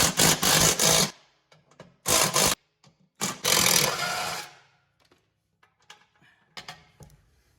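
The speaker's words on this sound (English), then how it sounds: "All right, I'm gonna use an electric impact." An electric impact wrench removes 10mm bolts from the blade hub assembly on a John Deere lawn tractor, with several loud bursts of buzzing rattle, each stopping abruptly, followed by quieter clinks and handling noises.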